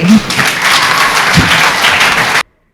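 An audience at a welfare foundation event for helpless women, men and children bursts into dense, loud applause that holds steady for a couple of seconds and then cuts off abruptly.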